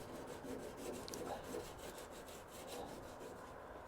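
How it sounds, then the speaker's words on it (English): Steady light rubbing of sandpaper on a repaired rusty classic car's metal body, a soft even rasp with repeated back-and-forth strokes, close and continuous. "I'm going to just lightly sand this, kind of knock down those edges."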